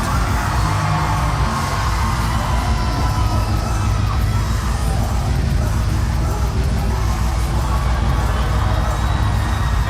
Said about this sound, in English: Major high-pitched female screams too.